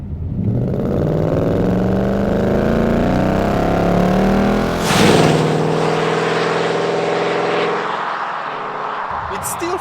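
Ford Mustang GT exhaust rumbling loudly and continuously on a forest road, its echo off the trees filling the clip, with a brief surge of revving midway before settling back to a steady drone.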